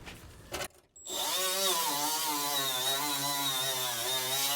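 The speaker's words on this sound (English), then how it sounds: "let's try to drill them out." A power drill bores out stubborn fasteners on a VW bus, a high whining bite that rises into a sustained, strained grinding drone after a brief start, close and fairly loud.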